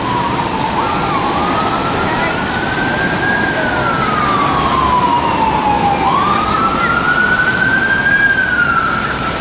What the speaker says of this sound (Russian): Вот и снова сирена.